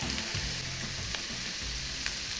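Shredded potatoes sizzle and crackle in a hot pan with onions, a close, steady frying hiss with small pops throughout.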